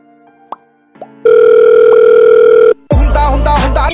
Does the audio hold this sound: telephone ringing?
yes